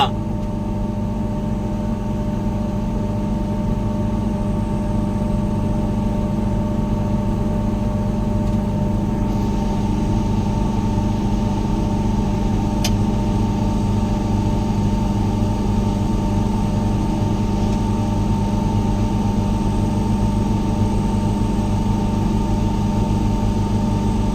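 Diesel engine of a John Deere or Case sugarcane harvester running continuously, a loud, steady low drone with a constant hum throughout and no talk.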